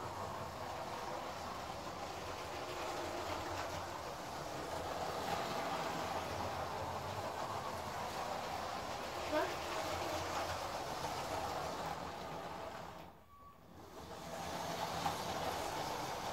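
A LEGO passenger train runs along its toy track with a steady, close whirring motor hum and faint track rattle that briefly drops away before resuming.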